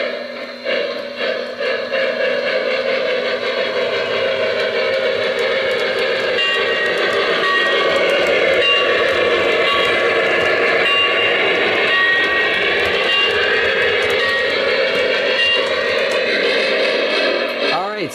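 A Lionel Strasburg #89 model train engine runs continuously over layout track and through a switch, giving a steady close rumble and whine of the motor and wheels for the whole stretch, with faint background chatter underneath.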